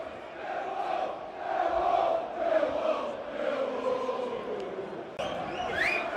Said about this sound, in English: You can hear the noise in the stadium